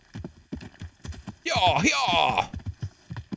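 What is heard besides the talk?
horse hooves clip-clopping in a video game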